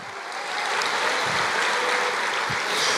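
A church congregation applauds during an energetic sermon, producing a steady, full wash of clapping from many hands that holds evenly throughout, close and loud, with no talk over it.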